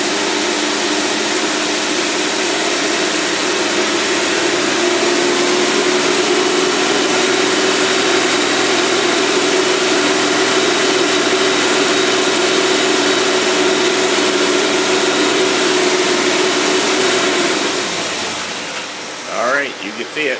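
A Cadillac engine runs loud and steady on its carburetor until the fuel runs out, then stumbles and sputters to a stop near the end.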